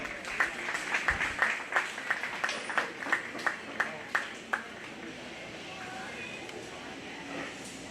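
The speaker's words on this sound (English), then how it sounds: "Let's give those two exhibitors a round of applause" Applause for two 4-H and FFA exhibitors at a county fair swine show, a crowd clapping in a quick burst of sharp separate claps that thins out and fades, heard in a large open space with faint background murmur.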